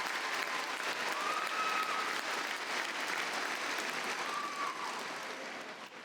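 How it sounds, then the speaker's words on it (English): Sustained applause from a large audience at a law school commencement, a soft, even wash of many hands clapping at a distance that fades slightly toward the end. "join me in a round of applause when thanking your family and the team"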